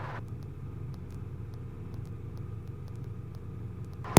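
A helicopter climbing away with power applied during a go-around: a steady low rotor and engine rumble runs throughout at moderate level, broken only by a brief sharp bump at the very end.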